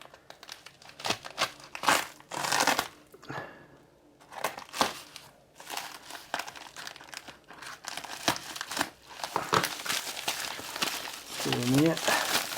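A Watch Gang subscription box package is cut open and its contents unwrapped, with close rustling, crinkling and tearing of packaging in irregular bursts, and a person speaking between the sounds.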